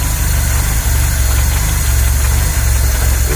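A VW Polo 86c engine idles roughly with a torn carburetor base plate causing an air leak, a loud, steady droning idle with an uneven, lumpy pulse and no voices over it.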